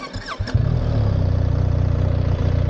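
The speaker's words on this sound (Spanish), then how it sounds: "al arranque, como se ve, la moto suena" A starter whirs briefly, then a BMW GS 1300 motorcycle engine catches and settles into a loud, steady, throbbing idle nearby.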